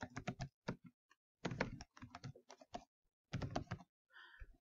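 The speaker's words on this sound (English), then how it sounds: "Type in your email address." Keystrokes on a computer keyboard as an email address is typed into a web login page, coming in quick clustered bursts separated by short pauses, close and fairly quiet.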